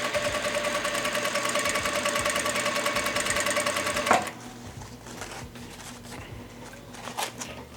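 Vevor industrial sewing machine stitching a double-layered ribbon tutu, a rapid steady mechanical whir that stops abruptly partway, followed by quieter handling noises.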